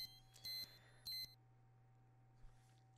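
Electronic beeps from the video game Californium: two short, bright tones in quick succession near the start, fairly loud over a steady low hum, followed by quiet background tone.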